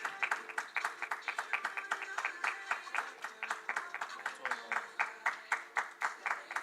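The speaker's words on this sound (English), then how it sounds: "I can hear the people are cheering them up for the last shot." Steady rhythmic clapping from a crowd, sharp repeated claps at an even pace, with faint cheering underneath.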